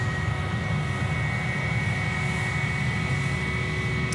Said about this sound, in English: The Jetstar off to Darwin tonight.